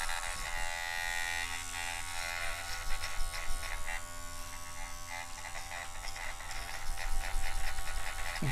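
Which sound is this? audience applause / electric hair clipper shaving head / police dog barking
electric hair clipper shaving head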